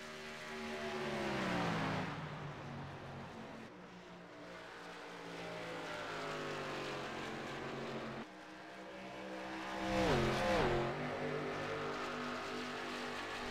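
Stock race cars circle the Darlington circuit in a Dodge Avenger 400 race, engines droning and rising and falling in pitch as they pass, with a louder close pass near the end.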